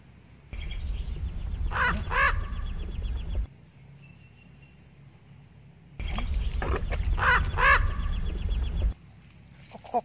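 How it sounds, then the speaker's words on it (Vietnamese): A bird, likely a crow, calls in two bursts of harsh, repeated caws separated by a few seconds of quiet, over a low rumbling background, with no talking. "Có cái tiếng giống như con chim con quạ, quạ có tiếng như quạ"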